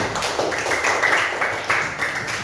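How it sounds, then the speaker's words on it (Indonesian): Classroom of students clapping for a classmate, loud close clapping in a brief uneven burst of about two seconds. "Tepuk tangan buat Mas Ilyas"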